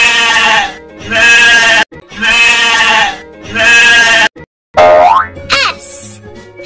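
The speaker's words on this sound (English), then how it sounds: "S is for sheep." A sheep bleats loudly three times in a row, each call long and wavering, followed by a brief cartoonish springy sound effect.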